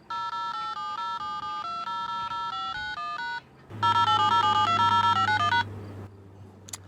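Electronic DTMF dialing tones play from a phone app into a 1973 telephone, a steady run of clipped, regularly pulsed beeps, then a louder, denser second run over a low hum, with no voices.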